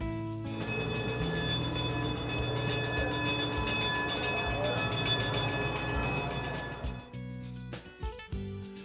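A loud, steady mechanical rumble and grinding of a cog railway train climbing Pikes Peak, close by, fading into clanks and knocks near the end.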